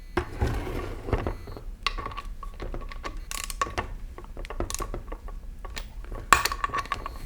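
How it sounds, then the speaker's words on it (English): Bolts on a Jeep T176 Tremec four-speed toploader transmission are tightened with a digital torque wrench, giving close metallic clicks, ratcheting and clinks of tools that come in irregular bursts. "these bolts are going to get torqued down to 15 to 18 foot-pounds"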